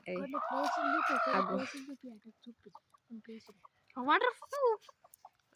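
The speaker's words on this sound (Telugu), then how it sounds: "కోడి" A rooster crows loudly up close, followed by a series of short clucks and a few higher squawks.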